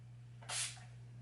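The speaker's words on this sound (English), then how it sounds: "I think my mascara might be dry enough for me to spray setting spray." Urban Decay All Nighter setting spray misted onto a face, a single short close hiss of about a quarter second over a steady low hum.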